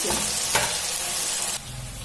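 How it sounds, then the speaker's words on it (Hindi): Stuffed bitter gourd (karela) fries in a pan, giving a steady, loud sizzle and crackle of hot oil with a brief stirring scrape. "आधा जे ओकरा हम फिर से फ्राई करी छी"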